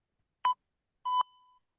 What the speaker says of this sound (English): I hope the microphone picked up the sensor beep